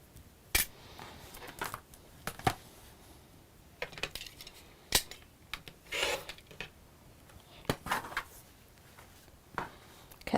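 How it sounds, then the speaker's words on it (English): Scissors snipping the corners off sewn fabric strips in a quilting workshop: a series of short, sharp metallic snips and clicks at an uneven pace, close by, with light handling rustle between cuts and no talking. "let's just trim those off. Chop the corners off again."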